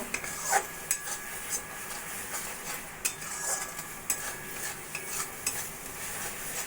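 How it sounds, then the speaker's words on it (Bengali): A spoon scrapes steadily through mango pickle in a pan as roasted ground coriander, cumin and dried chili are mixed in, with repeated close stirring strokes over a faint sizzle and no talking. "মশলাটা দিয়ে আমি ভালো করে মিশিয়ে নেব"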